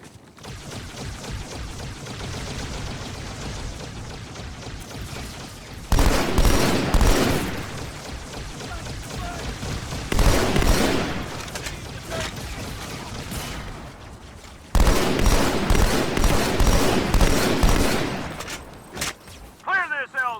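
Turret gunfire in the PC version of Halo 2 rattles in sustained volleys, with two louder, heavier bursts standing out over the continuous combat din and voices heard talking over parts of it.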